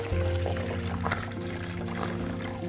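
Milk pours into a bowl during an elephant encounter. A short, close splashing pour runs over a low steady hum, with no talk.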